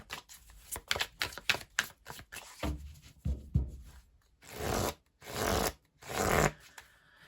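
Tarot cards riffled and shuffled in quick bursts of flicking snaps, then several longer sliding swishes as cards are drawn from the deck, close and fairly loud with no talking.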